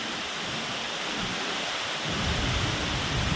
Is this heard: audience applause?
no